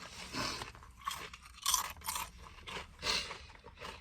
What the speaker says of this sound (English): That was a good crunch.